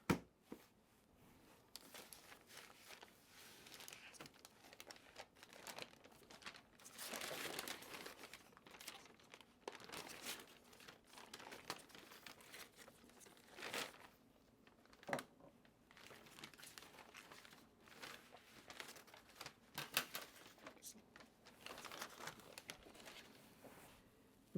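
Smoked pork belly being unwrapped from its wrapping after resting, giving a long stretch of close crinkling and rustling with irregular crackles and soft pats.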